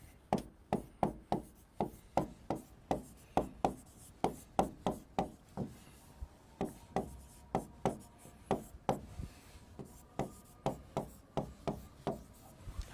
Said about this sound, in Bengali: আমি একটা জিনিস লিখি, সবাই মনোযোগ দিবা